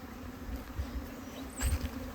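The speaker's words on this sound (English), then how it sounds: "safe to say the bees are pretty happy today" Faint buzzing of honeybees flying close by in the air, a low hum with a couple of louder passes near the microphone, otherwise quiet.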